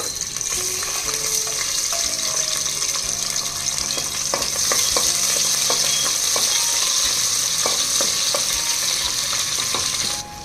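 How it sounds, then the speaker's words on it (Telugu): Slit green chillies and long-sliced small onions fry in hot oil with a loud, steady close sizzle, broken by a few sharp clinks and taps of a spoon against the pan. "చిన్న ఉల్లిపాయలు అండి నాలుగు ఉల్లిపాయలు ఇలా పొడవుగా కట్ చేసి వేస్తున్నాను"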